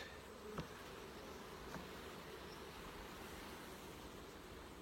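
Honey bees swarm around a set of beehive boxes and nucleus colonies, a steady dense buzzing drone filling the air without pause, with a couple of brief soft knocks near the start and no voices.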